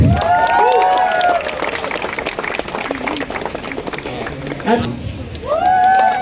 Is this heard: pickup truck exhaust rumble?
no